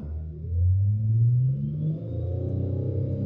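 A Lexus RX pulls away from a full stop on an uphill road, its engine rumbling low and rising steadily in pitch as it accelerates, heard from inside the car.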